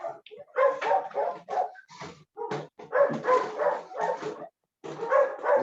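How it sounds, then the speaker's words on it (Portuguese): Several dogs barking outside on a residential street, with repeated clustered barks, yips and whimpers that come in bursts with short gaps, fairly close and clear, with no talking. "tem um barulho dos cachorros, não sei de onde é"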